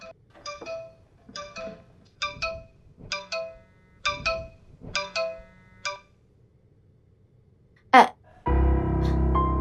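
A phone ringtone from a Nollywood film plays as a repeating melodic pattern of short bright tones, about eight bursts in steady rhythm, followed by a sharp blip and then a louder, dense burst of sound at the end.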